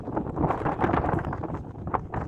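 Strong, cold wind buffets the microphone on a high, foggy viewpoint in Abha in winter, a steady broadband roar with gusty swells across the whole stretch and no voices.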